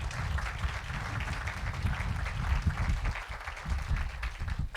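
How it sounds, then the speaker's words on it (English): An audience at a ribbon cutting ceremony claps in a steady, moderately loud round of applause that continues throughout without talk. "A round of applause for them."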